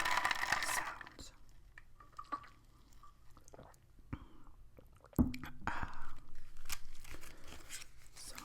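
Gum is chewed close to the microphone for ASMR, with soft wet smacking and squishing in irregular bursts, plus crinkling and scattered clicks between quieter pauses.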